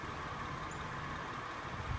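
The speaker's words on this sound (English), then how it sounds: "They got a little, just a little bit of valve tick in them." A 2000 Honda Accord LX V6 with nearly 300,000 miles and a slight valve tick idles with a steady, faint low hum, heard alone without talk.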